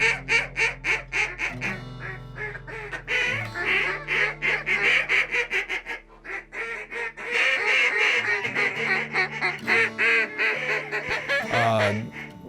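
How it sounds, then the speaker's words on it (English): Ducks arriving at dawn over a rocky-bottomed river in Western Nebraska in January, honking and quacking almost continuously in loud, close, overlapping calls. "so do the first ducks of the day."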